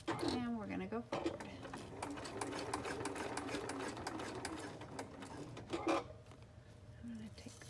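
Sewing machine stitching a fabric binder pouch, running in a steady continuous whir with a back stitch then forward, briefly pausing near the start and again around the six-second mark, with a person speaking over it.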